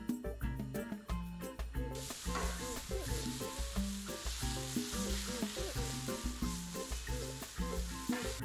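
Chicken fajitas sizzle on a Blackstone griddle, a bright continuous hiss with repeated scraping and clanking as the meat is mixed together, steady and close throughout.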